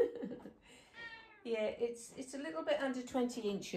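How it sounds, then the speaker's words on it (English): A house cat meows a few times indoors during a sewing session, its short calls mixed in with a nearby person talking. "That's my cat."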